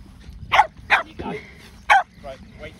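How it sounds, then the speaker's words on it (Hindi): Dogs at a park run give several short, sharp barks spaced irregularly, heard close by. "ये कुत्ते जो हैं मेरे पास आ गए हैं बिल्कुल"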